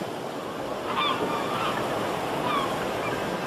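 Ocean waves surge past a wave power station on the Scottish island of Islay, a steady broadband roar that fills the clip, with faint honking bird calls briefly rising above it twice.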